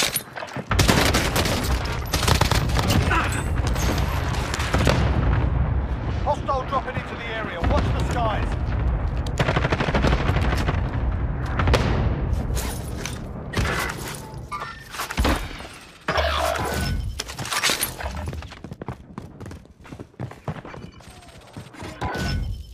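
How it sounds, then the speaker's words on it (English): Cluster strike explosions in Call of Duty Warzone, heard as a dense, loud barrage of booms and crackling blasts that rolls on for most of the span, with occasional speech mixed in among the impacts. "Enemy cluster strike incoming."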